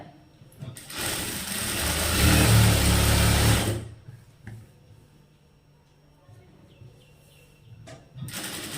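A sewing machine runs one sustained burst, sewing a single seam on tailoring fabric with an extra stiffening strip, loud and close, then stops. Quieter handling noise follows, and the motor briefly starts again at the end.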